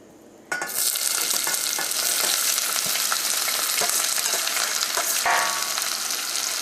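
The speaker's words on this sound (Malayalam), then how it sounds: "ഇനി ഇതിലേക്ക് നമുക്ക് ഏറ്റവും ആദ്യം തന്നെ സവോളയും വേപ്പിൻ്റെ ഇല ഇട്ടിട്ട് നന്നായിട്ടൊന്ന് മുരിയിച്ചെടുക്കുക." Onions and curry leaves hit hot oil for a Kerala-style mutton curry, bursting into a loud, dense sizzle that holds steady and close, with faint stirring scrapes underneath.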